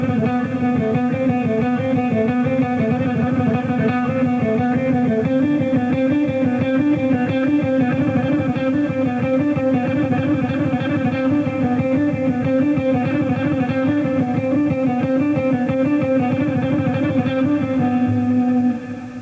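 Electric guitar speed exercise played with distortion and some reverb, a dense continuous run of fast repeated notes at steady loudness that stops abruptly near the end.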